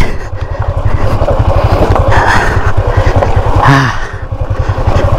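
A dirt bike engine chugs loudly and steadily up close in first gear, with a brief rev change partway through.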